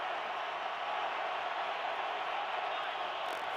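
A packed NFL stadium crowd at the Cardinals home game against the Patriots keeps up a loud, continuous roar, a broad wash of noise that never drops, and faint commentary may sit underneath it.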